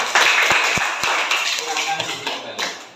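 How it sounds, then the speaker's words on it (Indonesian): Classmates in a classroom clap for the first presentation group, a brief burst of bright hand claps with a few sharp taps, fading out as voices carry on underneath. "Tepuk tangan untuk kelompok 1."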